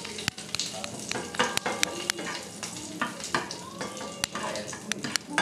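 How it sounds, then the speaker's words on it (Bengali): Bay leaf, dried chilli and kasuri methi fry in hot oil with a soft, continuous sizzle, punctuated by sharp, close clicks and taps of a spatula against the pan. "তেজপাতা, শুকনো লঙ্কা আর এক পাশ দিয়ে একটু কসৌরি মেথি আমি ভেজে নেব।"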